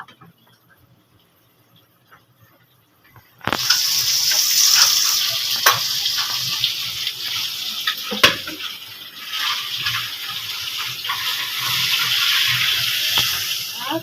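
Kitchen tap running while dishes are washed, starting abruptly after near-silence and continuing as a steady close gush with occasional clinks and splashes.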